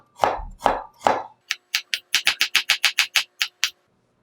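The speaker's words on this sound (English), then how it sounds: "cut the carrots. Okay, slice it thinly." A knife slicing carrots thinly on a board for Korean noodle soup, heard first as three softer strokes, then a quick run of about a dozen crisp, evenly spaced chopping taps close by, with no talking.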